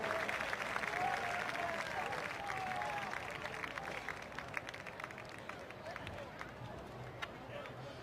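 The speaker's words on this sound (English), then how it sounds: "How about a big round of applause?" A football stadium crowd applauds an injured player at a high school game between the PSJA Bears and McAllen Bulldogs. Distant, moderate clapping and cheering sit under an announcer's amplified voice and faint whistles.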